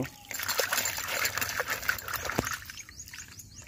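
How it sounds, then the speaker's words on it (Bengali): Live climbing perch, caught fresh from a village pond, being washed by hand in water: continuous splashing and trickling close by, with faint bird calls in the background and no talking. "এটা কই মাছটা ধুচ্ছ তো?"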